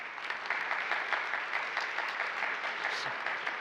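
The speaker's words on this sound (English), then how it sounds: "You get an applause." An audience at a vocational excellence forum applauds as panelists are called to the stage: a steady, dense wash of many hands clapping at moderate distance, continuous throughout without pauses.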